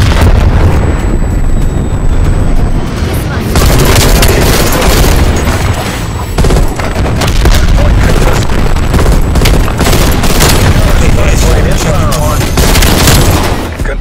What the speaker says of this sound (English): Hostile strafe run inbound.